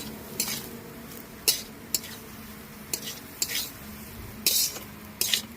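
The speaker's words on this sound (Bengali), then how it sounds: "এবার এটাকে নাড়িয়ে নেব ভালো করে" Cooked rice is stirred in a sizzling pan for a festive recipe: a soft, constant frying hiss is broken by about ten sharp spoon scrapes and clinks against the metal at irregular intervals.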